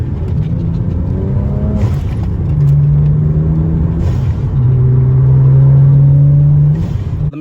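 BMW 335i with a blow-off valve mod, heard from inside the car, revving repeatedly in long climbing surges over a heavy low rumble, each release marked by a short sharp hiss.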